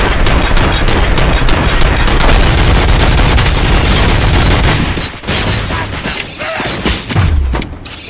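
Gunfire rattles in a RoboCop video game, with dense, rapid bursts and booms. They are loud and nearly continuous at first, then thin out into scattered shots and mechanical clanks.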